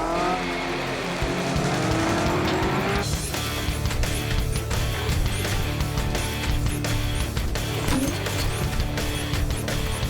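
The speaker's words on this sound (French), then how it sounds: "Et maintenant, montez dans le véhicule autonome." A cartoon autonomous vehicle from Turbosaures starts up and pulls away loudly, its engine revving and whining continuously with tire squeal and clattering bursts over a steady rumble.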